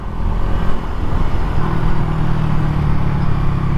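A Suzuki Raider 150 fi motorcycle engine runs loud and close with a steady, throaty drone and no pauses throughout.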